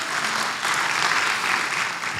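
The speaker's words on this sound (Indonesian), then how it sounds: "Beri tepuk tangan yang meriah buat Tuhan." Church congregation clapping loudly together in a lively burst of applause that fills the room at a steady level for the whole stretch.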